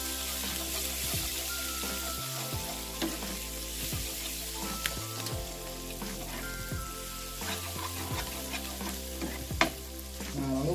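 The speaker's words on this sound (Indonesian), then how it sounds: "Kemudian kita aduk-aduk," Spice paste sizzling and frying in a pan while being stirred, a steady close crackle with repeated scraping strokes of the spoon throughout.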